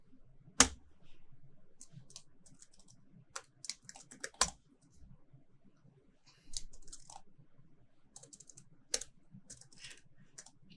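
Clattering keystrokes on a computer keyboard come in short bursts and single sharp taps, close and fairly quiet, with no talking over them.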